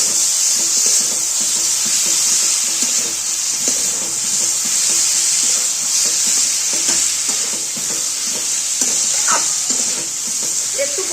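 Fried potatoes and cauliflower are sautéed in spice masala, a loud continuous sizzle and hiss with rapid, rhythmic scraping of a spatula through the pan, close and steady throughout.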